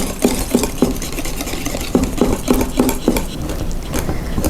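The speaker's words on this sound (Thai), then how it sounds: "คนส่วนผสมนะคะให้เข้ากันเลย" Keto brownie batter with chocolate mixed in, stirred in a bowl with a regular rhythm of scraping, clinking strokes, close and clear.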